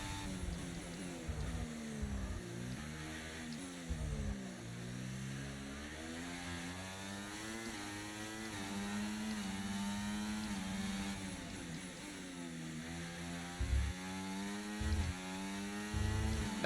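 A Red Bull RB20 Formula 1 car engine on a hot lap around Montreal in F1 24 screams continuously, its pitch rising and falling sharply through repeated upshifts and downshifts with steady loud intensity.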